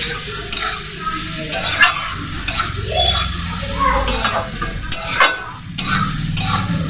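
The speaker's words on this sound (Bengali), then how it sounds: "আপনারা মিনিট পাঁচ মুড়িটা নাড়বেন" Puffed rice (muri) is stirred in a frying pan, making repeated scraping, rustling strokes over a light sizzle. The sound is close and steady, with no voices.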